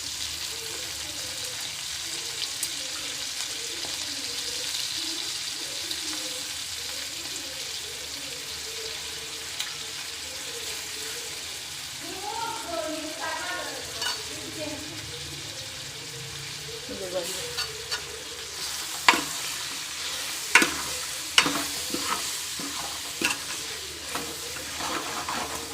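Curry leaves, coriander and mint hiss and sizzle in hot oil for a blood curry, a steady frying crackle with brief stirring scrapes and a few sharp clinks of a utensil against the pan toward the end.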